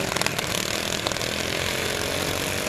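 Lawn mower engines snarl and buzz together at a demolition derby in Fisher, Illinois, a loud dense raspy drone with a few sharp knocks near the start, continuous throughout.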